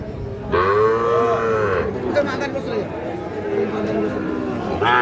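A Sahiwal bull calf, about 8 to 9 months old, lets out a loud, sustained moo, then a second call begins at the end, amid a cattle market crowd's murmur and nearby talk.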